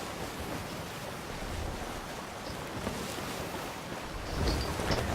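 Ocean waves in the Sea of Thieves video game, a continuous washing surf with wind-like hiss that swells a little louder near the end, with no voices.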